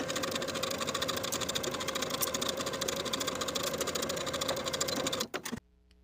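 A sewing machine stitches a seam on a bodice in a rapid, steady mechanical whir with fine regular ticking, running continuously before stopping abruptly near the end.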